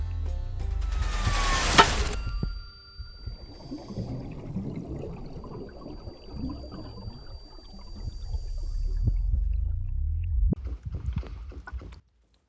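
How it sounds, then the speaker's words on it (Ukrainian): Water runs and trickles steadily at moderate volume, after a brief loud rustling burst at the start and ending with a couple of knocks. "Диви, як тече вода."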